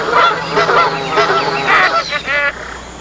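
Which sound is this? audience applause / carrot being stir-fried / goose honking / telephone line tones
goose honking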